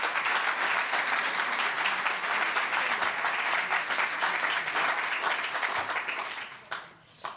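Sustained applause from an audience after a corporate charter signing ceremony on employment of over-50s, dense steady clapping that fades out over the last second.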